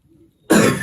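A single sharp cough with throat clearing bursts out after near silence, close and loud, from a teacher with a dry throat during a maths lesson.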